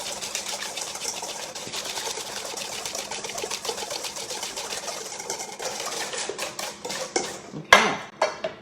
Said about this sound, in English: So, 3 eggs. We're going to whisk this stuff together here.